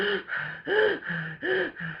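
A voice imitates anxious, shallow breathing: quick gasping inhales and short huffs in a steady repeating rhythm, close and fairly loud, with no words spoken.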